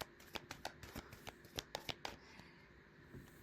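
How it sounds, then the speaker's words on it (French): Tarot cards being shuffled by hand, a series of crisp riffling slaps and snaps in quick irregular bursts, close and fairly quiet, fading into soft rustle at the end. "Attends, j'ai battu les cartes"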